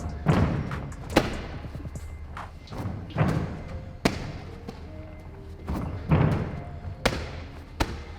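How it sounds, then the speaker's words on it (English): A wall ball thrown in a workout thuds heavily against a surface again and again, about seven or eight solid impacts at an uneven rhythm. The hits are close and distinct and nobody speaks between them. "what we're gonna do is we're gonna do wall ball throws"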